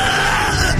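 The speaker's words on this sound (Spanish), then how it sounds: "Oyóse entonces un agudo grito" A loud, sharp scream in a dramatized horror story, a sustained strained cry filling the whole brief moment with no pause.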